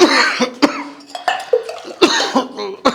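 A person coughs repeatedly in short, sharp bursts, close and loud, about five coughs spread unevenly with brief breathy gaps between them.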